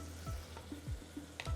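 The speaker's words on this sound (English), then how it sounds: "it's hot and it's sizzling." Hot Sindhi kadhi sizzles and fries in a pan, a soft continuous crackle with a few low clinks from the pan, close and quiet with no talking.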